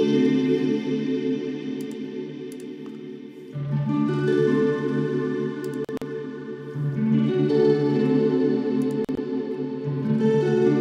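Granular synth built from an electric piano sample, giving a shimmering, chorused tone like a Yamaha DX7, holding sustained layered chords that shift a few times, with no talking.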